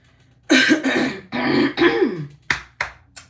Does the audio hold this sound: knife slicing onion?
no